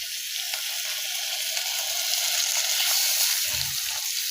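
Diced beef and onions sizzling in a pot, a steady close hiss of frying with a brief stir knock near the end.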